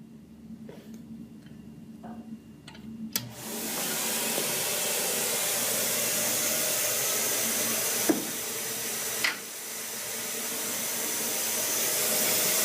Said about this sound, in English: I'm going to turn on the pump.